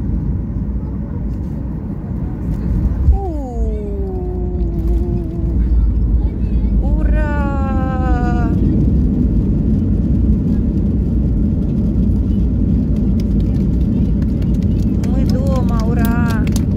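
A passenger airplane lands at Antalya airport in winter, its engines giving a steady loud roar with rising and falling whines as it touches down, while people talk over it in the cabin.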